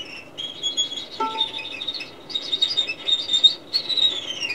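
A violin plays high, chirping and trilling phrases in quick bursts, imitating birdsong, with a few short squawk-like accents, heard alone and moderately loud.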